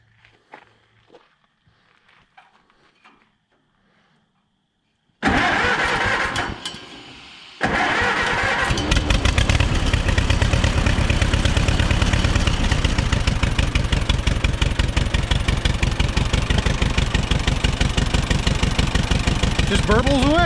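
An old engine, checked out of gear, cranks and catches after some quiet shuffling and faint talk, stumbles briefly, then settles into a loud, steady, burbling idle that runs on to the end.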